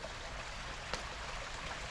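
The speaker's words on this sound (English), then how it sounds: "The creek is running." A running creek beside a house garden planted with a weeping Alaskan cypress, giving a steady broadband rush of flowing water with no talk and one faint brief tap near the middle.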